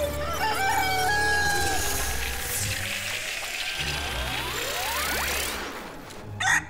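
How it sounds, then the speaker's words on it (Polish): A cartoon rooster from Nexo Knights crows loudly amid rushing, sweeping effects, with a brief sharp thump near the end. "Przecież to kogut przebudzenia!"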